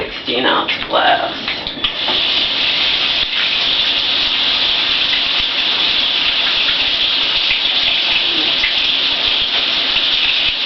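Tap water pours steadily into a 16-ounce glass, a continuous bright gushing stream after a few brief sounds and a voice at the start.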